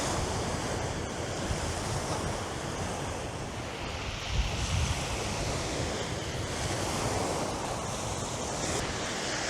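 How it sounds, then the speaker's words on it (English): Wind gusting at the seaside in Hastings during fishing, a dense steady roar of wind and surf that stays loud and continuous throughout with no voices. "Wind's picking up a little bit now."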